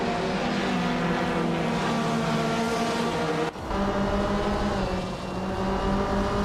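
A vintage Porsche 909 Bergspider race car in a racing video game holds a steady, loud engine drone at high revs, with a brief dip partway before the harmonic whine resumes alongside other cars.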